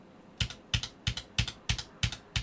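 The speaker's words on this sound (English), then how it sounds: "is can you hear any keyboard inputs?" Quick, crisp keyboard keystrokes tapped in a steady rhythm, seven distinct clicks, close and clear with no voices.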